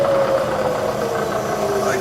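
A Bridgeport milling machine runs in low gear, giving a steady, loud mechanical whine with a constant drone held evenly throughout, with no break or change in pitch.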